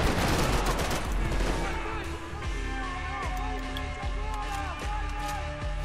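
Gunfire in Max Payne 3 rattles in a dense, continuous barrage from both above and below, layered over loud game music with steady rhythmic thumps.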